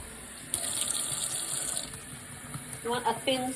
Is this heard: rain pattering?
no